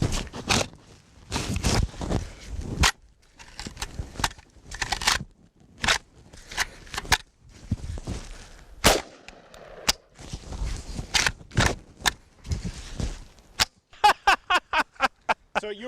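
A semi-automatic firearm fired and hand cycled after repeated failures to feed, with sharp shots and metallic clacks of the action scattered across the span, closing in a rapid run of crisp clicks.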